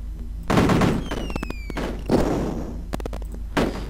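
Gunfire in the retro video game Cannon Fodder comes as several short, punchy bursts spaced about a second apart, loud and close, with no talking over them.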